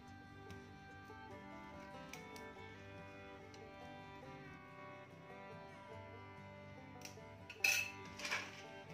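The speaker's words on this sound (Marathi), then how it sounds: "आता हा मी एका स्टीलच्या चमच्याने एकत्र करून घेते, जो चिकटलाय तो." A steel spoon works through thickened, sticky jaggery in a pan while making revdi, giving light metallic clinks and scrapes. A pair of sharper knocks comes near the end over a steady tonal background.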